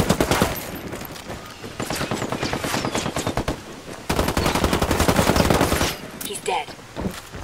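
Sustained automatic gunfire from the video game Ghost War, dense rapid bursts rattling loudly almost without pause, with a brief break midway before another long barrage.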